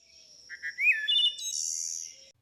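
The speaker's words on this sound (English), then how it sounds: "Here's a wood thrush at normal speed." A single wood thrush song rings out alone: a few low fluting notes, a rising liquid phrase, then a bright buzzy trill that fades.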